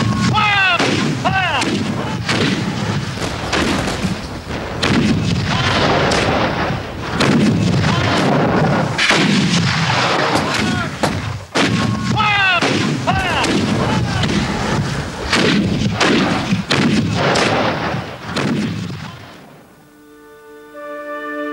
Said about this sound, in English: When the artillery barrage ceased, the ground attack began.